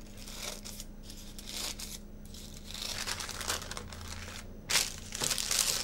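Baking paper is crumpled and crinkled by hand to fit a tart tin, in irregular crackling bursts that grow louder and sharper toward the end, close up with no talking.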